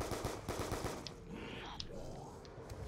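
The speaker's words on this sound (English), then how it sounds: "I'm gonna put some bullets into him just to get some points" Rapid gunfire pumping bullets into a zombie in a zombie shooter game, a quick series of close shots in the first second, then sparser single pops under a faint background din.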